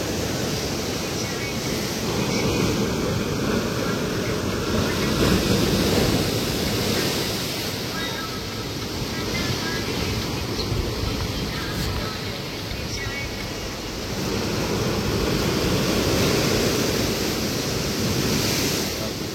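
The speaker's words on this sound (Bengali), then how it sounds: "ভয়ঙ্করভাবে ঢেউ একদম ছুটে আসছে সি বিচের দিকে" Rough, high surf crashes onto the sea beach at Old Digha during a new-moon spring tide, with waves surging over the embankment; a continuous loud roar of breaking water and wind runs unbroken for the whole stretch, with no voices.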